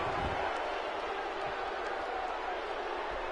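A live wrestling arena crowd cheers and murmurs in a broad, sustained wash of noise, fairly distant and steady, with a few sharp thuds and shouts rising out of it.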